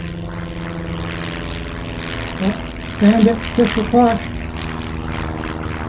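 Bomber propeller engines drone steadily in flight, a loud buzzing throb that carries throughout while a voice calls out over it.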